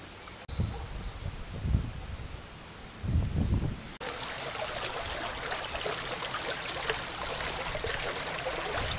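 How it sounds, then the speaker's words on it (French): A small, fast-flowing, muddy stream laps and trickles along a meander on a countryside hike, a steady close babble following some earlier rustling and thumps. "Le clapotis est tout à fait charmant."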